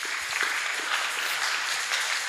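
A church congregation applauds together, a steady wash of many hands clapping that fills the room evenly for a couple of seconds.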